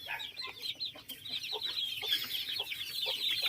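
Rhode Island Red cross native chickens cluck steadily in a ranging area, a busy overlapping flock of soft calls and chatter at close range with no voices.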